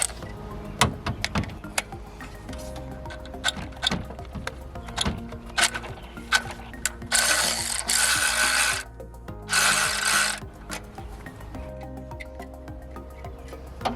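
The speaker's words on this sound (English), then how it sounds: "We'll use the 10mm socket again to remove this cable strap bracket." A 10mm socket on a ratchet works loose the cable strap bracket bolt on a Honda Civic near the alternator: close, scattered clicks and knocks of tool on metal, then two longer bursts of rapid ratcheting, with no talk.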